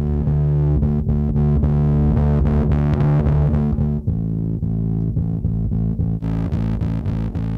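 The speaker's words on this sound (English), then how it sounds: "We could really, if we wanted to, could really make that bass really distort and really grind." Bass line run through a Thermionic Culture Vulture distortion plugin, heavily driven and grinding, loud and continuous with sustained, saturated notes and no talking.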